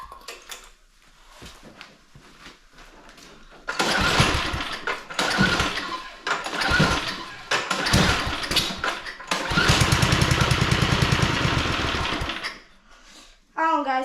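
A Spirit snowblower's small engine cranks and sputters in repeated bursts, sometimes catching briefly into a rough buzzing run before dying off, loud and close with quiet gaps between attempts.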